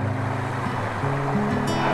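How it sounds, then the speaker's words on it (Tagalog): Water rushes down a mountain stream on Mount Banoy in Batangas City, a loud, continuous outdoor flow with a low engine-like drone running beneath it. "ito yung narinig ko, yung agos ng tubig"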